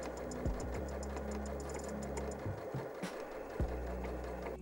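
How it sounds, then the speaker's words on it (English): A sewing machine fitted with a denim needle runs a standard straight stitch through denim layers, a steady, fast mechanical whir with a faint ticking rhythm, close and moderately quiet, briefly pausing and restarting. "I've popped a denim needle on the machine and gone back to a standard straight stitch."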